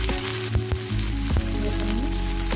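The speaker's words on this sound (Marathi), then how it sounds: "कांदा आणि कढीपत्ता सोबत टाकून देते।" Onion, curry leaves and green chilies fry in a hot pan, a loud continuous sizzle broken by a few sharp clanks of a spoon against the pan.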